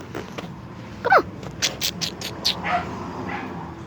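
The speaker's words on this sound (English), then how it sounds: "Diesel, the big dog's barking at you." Several dogs, including a big one, give short yips and barks at moderate distance, scattered unevenly over a rough outdoor background noise.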